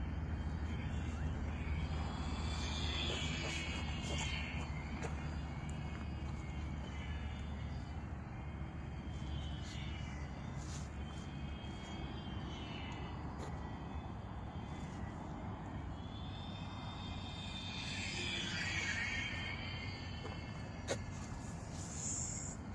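A V-tail RC plane running on a 3-cell battery at partial throttle buzzes steadily overhead, its electric motor whine swelling and fading as it passes, with a light wind rush underneath.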